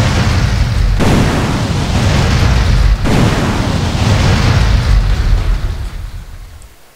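A massive jutsu explosion from a Hashirama Senju mod in GTA San Andreas: a loud, sustained roaring blast with a second heavy boom about two seconds later, rumbling on before fading out at the end.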